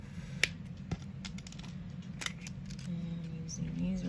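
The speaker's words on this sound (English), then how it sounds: "We're going to come around the front and snip that off." Wire cutters snip off excess jewelry wire at the front of a small geode wire wrap, giving a few sharp, close clicks over a quiet background with faint handling noise.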